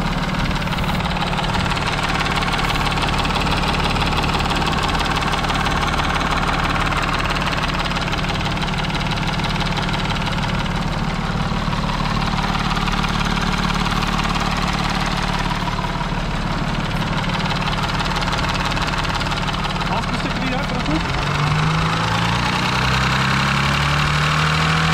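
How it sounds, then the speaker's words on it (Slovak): An Audi Q7 3.0 TDI 200 kW diesel engine runs steadily after a camshaft replacement. It gives a loud, continuous idle with a rough, knocking, clattering texture and a slight change in pitch near the end. "posúďte sami, ako ide ten motor."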